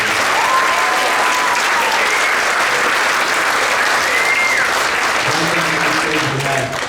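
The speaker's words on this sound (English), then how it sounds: "If we can give those people a round of applause." Loud, dense applause from a school concert audience honoring seventh grade band students, sustained and even throughout, with faint voices and whistles mixed in underneath.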